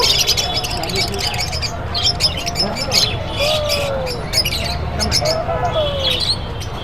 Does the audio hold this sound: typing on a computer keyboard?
no